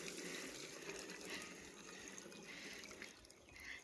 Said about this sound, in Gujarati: આમ પાણી ભરી દેવાનું